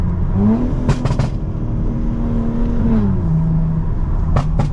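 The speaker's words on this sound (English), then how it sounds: "No, that was 3 pops. Downshift." A BMW G82 M4 idles and blips its engine on a downshift, setting off a few sharp exhaust pops and crackles over a steady low burble, all heard close up with no talking.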